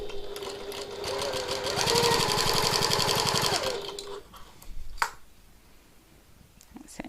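A sewing machine stitches a tote bag strap in a fast, steady whir of rapid needle strokes for about four seconds, then stops, leaving a few soft handling clicks.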